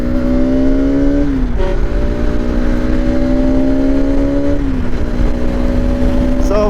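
Loud Bajaj Pulsar RS 200 motorcycle engine (2025 model) pulling hard through the gears, its rising drone breaking off briefly at each shift, with two quick upshifts heard up close on a ride.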